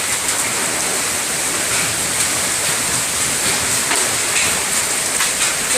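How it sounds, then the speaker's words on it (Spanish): A hailstorm with hailstones about 1 cm across, a steady dense hiss of falling ice on surfaces that stays loud and even throughout, with no voices. "Granizos de 1 centímetro de grande."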